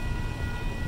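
A railroad maintenance-of-way train led by Union Pacific locomotive 8651 rumbles past close by, a steady low mechanical drone with a faint high whine on top, no talking.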